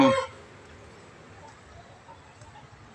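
A fighting rooster in a Thai garden gives a loud, abrupt crow right at the start that cuts off quickly, leaving faint quiet background afterward.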